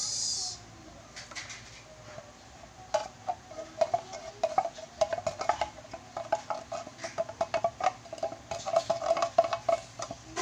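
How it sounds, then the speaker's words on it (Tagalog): A utensil scrapes and taps against a pot of maja blanca with condensed milk in a quick, irregular stirring rhythm, close and fairly quiet, after a brief hiss at the start. "Stir ng konti."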